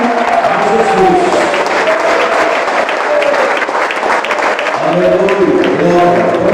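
A church congregation at a live Brazilian service claps continuously and loudly, steady dense clapping carried under a voice speaking and singing over it.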